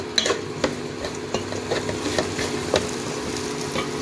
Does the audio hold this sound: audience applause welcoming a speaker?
no